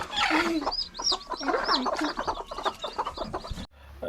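Hens cluck repeatedly at close range, a busy overlapping chatter of short calls that runs almost continuously before cutting off near the end.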